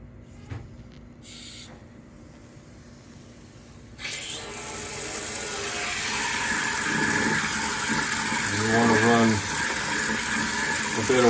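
Water gushes steadily through the charcoal filter of a Keurig K-Elite coffeemaker fitted with a water line, starting suddenly and running continuously with a brief gurgle near the end.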